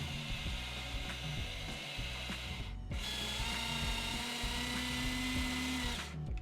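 A plastic Diecast Masters Caterpillar 320 RC excavator, freshly repaired with epoxy, whirs steadily as its motor spins the upper body around, a continuous mechanical drone with slight ratcheting grind and a brief dip near the middle.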